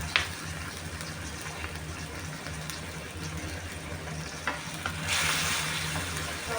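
Thin pieces of catfish are stir-fried with a splash of fish sauce, giving a steady close sizzle with intermittent scraping stir strokes and a brighter burst of hissing near the end.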